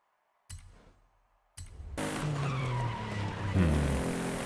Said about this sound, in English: Still locking the brakes up.